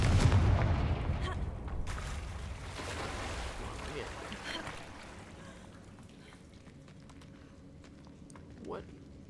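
Confringo blasting-spell explosion in the Hogwarts Legacy video game: a loud, rough boom at the start that rolls off into a fading rumble, with quieter game ambience afterward.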